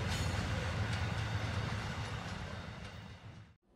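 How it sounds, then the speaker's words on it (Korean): A long freight train of over 50 cars rumbles steadily past close by in Australia, with rhythmic rail clatter and metallic squeal, before cutting off abruptly. "50량이 넘는 정말 거대한 열차였습니다"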